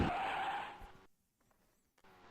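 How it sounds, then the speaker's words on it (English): A race car in the Indycar Racing II video game, on the Vancouver street circuit of the 1990 CART season, spins out with a loud tire skid for about a second. Near silence follows before the engine returns at the end. "How did the car spin out there?"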